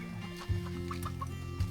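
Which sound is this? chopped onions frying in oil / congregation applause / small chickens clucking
small chickens clucking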